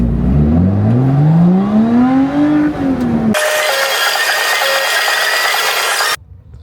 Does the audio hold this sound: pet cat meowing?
no